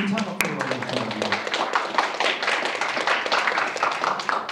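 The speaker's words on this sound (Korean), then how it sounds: "1차 박수로 부탁드립니다" An audience applauding at a Korean National Assembly forum, a dense spatter of clapping after a single sharp knock, steady throughout, with speech over it.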